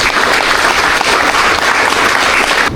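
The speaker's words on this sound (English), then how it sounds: "please give them a big round of applause" Audience applause at a sumo wrestling training demonstration in Tokyo, steady dense clapping filling the whole stretch before cutting off abruptly at the end.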